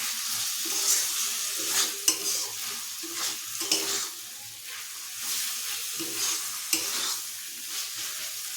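Vegetable curry being sautéed in a home pan sizzles steadily while a spatula stirs and scrapes at a regular pace, with occasional sharper knocks against the pan, moderately close and with no talking.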